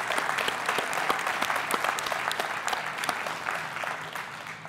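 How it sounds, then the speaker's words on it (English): An audience claps steadily at the closing of a hackathon, a dense, sustained round of applause heard without speech. "Could you all give yourselves a hand of applause?"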